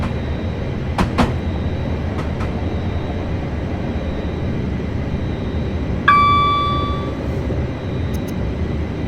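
A train in Train Simulator 2018 on the Waterloo to Portsmouth Harbour line rumbles steadily at a platform, with a few clicks and a short ringing bell-like chime partway through, loud and continuous with no talk.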